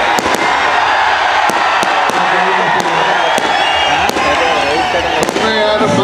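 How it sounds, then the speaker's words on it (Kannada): Firecrackers burst at the Karaga festival, giving a string of sharp, irregular cracks, some in quick pairs, over someone speaking loudly through a public address system amid a crowd. "ನಾನು ಪಟಾಕಿ ಹೊಡೆದು ಯಾಕೆ ಹಾಳು ಮಾಡ್ತಾ ಇದ್ದೇನೆ?"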